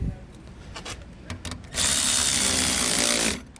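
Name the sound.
power tool tightening hardware on towed vehicle shield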